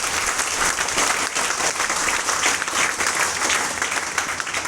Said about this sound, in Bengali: ওনার জন্য একটা বড় করে হাততালি দেওয়া হবে।